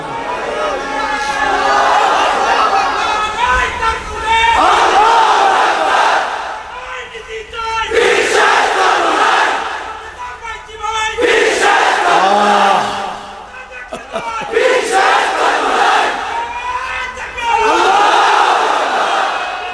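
Large religious gathering at a Bangla waz sermon erupting in loud collective chanting of takbir, several rising and falling waves of massed voices answering a call, close and filling the space.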